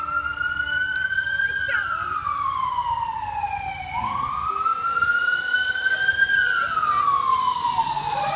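A fire engine siren at a Christmas parade in Seabrook, Texas wails in long rising and falling sweeps, loud and steady throughout, over a bed of crowd noise and faint voices.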